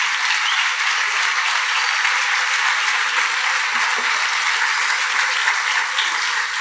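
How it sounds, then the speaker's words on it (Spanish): Loud, steady applause from a church congregation honoring the King, a dense wash of many hands clapping that holds evenly from start to finish with no voices on top. "denle un aplauso bien fuerte al Rey"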